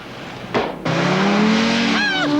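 A car engine revving and accelerating hard, rising in pitch after a brief break, with tire squeal near the end; loud and close, no talk.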